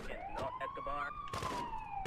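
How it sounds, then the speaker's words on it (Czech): Police car sirens from the PC game Grand Theft Auto 2 wail in a rising and falling sweep, loud and continuous, with engine rumble and short bursts of noise layered underneath. "Jo, tak teďka vidím, že houkají policajti."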